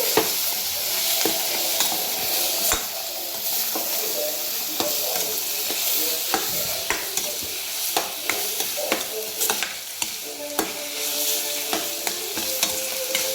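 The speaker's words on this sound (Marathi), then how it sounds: "आता हे आपल्याला चांगलं ह्याच्यामध्ये मिक्स करून घ्यायचं आहे कांद्यामध्ये" Khurasani greens sizzle in a pan with onions and salt while being stirred, a constant frying hiss punctuated by soft, irregular scrapes and taps of the spoon.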